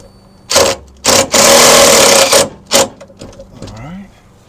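A power driver drives screws into an RV wheel flare in several loud close bursts, one long whirring run among short ones, with a voice speaking briefly at the end.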